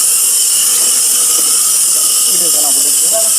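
A rice color sorting machine runs with a loud, constant airy hiss and whir that stays steady throughout, with faint voices murmuring underneath near the end.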